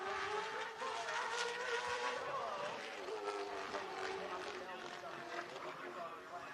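A race car at full throttle on a qualifying lap at Grundy County Speedway, its engine droning steadily throughout beneath an announcer's commentary.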